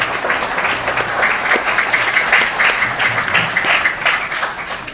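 Audience in a Catholic church clapping to welcome a new priest at a golden jubilee celebration, a full sustained round of applause, loud and even, lasting throughout.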